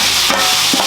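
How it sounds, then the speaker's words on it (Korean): Seasoned minced beef sizzles and hisses in a coated frying pan with no oil over medium heat, with a soft scrape or two of stirring in one short, close, steady burst. "양념한 소고기를 볶아줄 겁니다"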